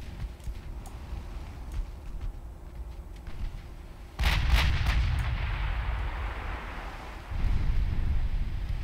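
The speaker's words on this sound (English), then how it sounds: "Can you fire an AP at that light cruiser?" Warship guns firing armor-piercing shells at a light cruiser in the naval video game Ultimate Admiral Dreadnoughts, heavy booming salvos with deep rumbling tails over constant sea-and-wind ambience, a second blast following a few seconds later.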